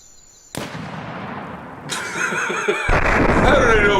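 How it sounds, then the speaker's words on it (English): An explosion plays in an animated My Little Pony fan video: a sharp onset of loud noise, a building burst of crackling and roaring, and a rising whine near the end, with voices mixed into the soundtrack. "How did I know it was going to be an explosion?"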